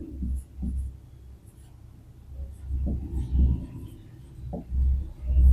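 Pen writing out a Class 10 polynomials maths solution by hand on paper, soft scratchy strokes coming in short bursts with pauses between them, close and fairly quiet.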